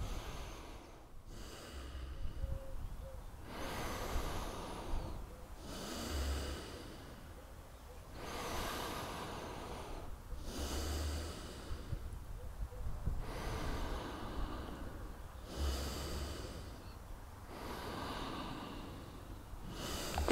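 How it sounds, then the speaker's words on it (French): Slow, exaggerated deep breaths during a relaxation and pelvic-floor exercise, each long inhale and exhale rising and falling in a steady rhythm, close and fairly loud with no talking over them. "J'inspire, j'expire."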